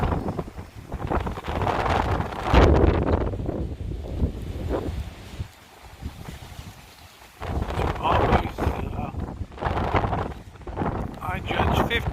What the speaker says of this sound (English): I judge 50, 60 mile an hour gusts here.